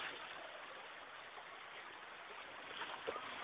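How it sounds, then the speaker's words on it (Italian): Floodwater in Vicenza rushes like a river, a steady broad hiss of flowing water that stays faint and continuous. "Ma qua che fiume!"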